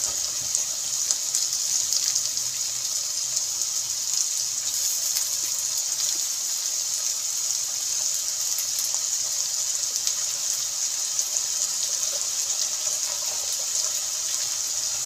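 Tap water runs steadily while soaked vegetables are rinsed clean of soil, a continuous close hiss and gush of flowing water.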